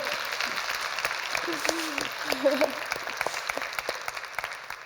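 An audience claps steadily in a sustained round of applause, with a voice speaking briefly over it.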